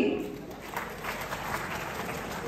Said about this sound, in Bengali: আরো একবার করতালি